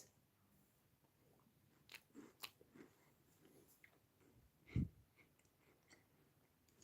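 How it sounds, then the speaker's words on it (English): Quiet, close bites and chewing on a Twix-like chocolate biscuit bar without caramel: soft irregular crunches, with one sharper crunch partway through, then slow mastication and no talk. "So now you may look at this chocolate and think, this looks like Twix. Well, let me taste it."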